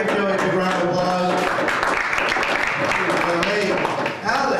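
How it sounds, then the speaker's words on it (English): Comedy club audience applauding a comedian at a three-comic stand-up night, a dense, steady wash of clapping with cheers and voices mixed in throughout. "Give Joey a big round of applause."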